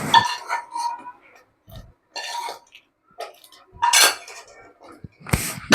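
Sweet rice with fried dry fruits being stirred in a pot, with a series of short clinks and scrapes of a spoon against the metal in separate bursts, close and moderately loud.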